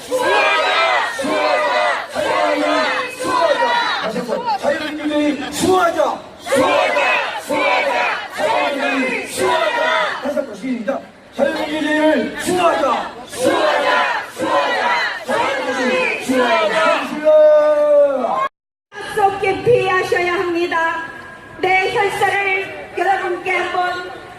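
At a Korean political rally against legalizing homosexuality, a large crowd shouts slogans in unison, loud and close, in repeated rhythmic bursts. A leader's amplified voice calls out between the chants.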